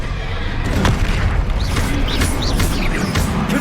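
Hogwarts Legacy's Expelliarmus disarming spell releases a deep, steady boom overlaid with whooshing, warbling magical tones and small crackles, loud and close across the whole moment.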